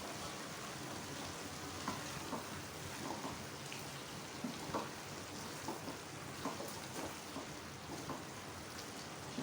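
Cauliflower and potatoes sizzle and crackle steadily in a pan with coriander and garam masala, a continuous close frying hiss with scattered pops throughout, no talking.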